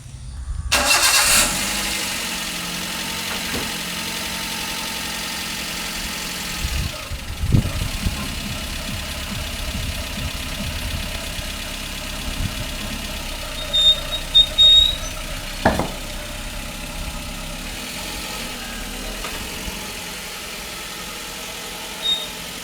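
A Maruti Zen Type 2 car engine starts with a sharp burst, then idles steadily and close by while the raised car is lowered, with a few brief knocks and bumps along the way.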